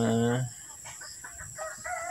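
A Melsims Black hen gives a loud cluck and crow-like call up close, followed by softer clucking and chatter.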